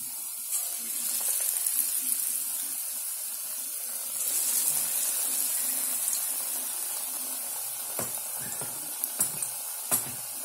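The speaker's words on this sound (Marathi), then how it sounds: "जे आपण डीप करायला ठेवले होते बटाटे ते आपण तळून काढूया" Potato fritters deep-frying in oil, a steady broadband sizzle with occasional sharper crackles and pops, continuous and moderately close with no talking.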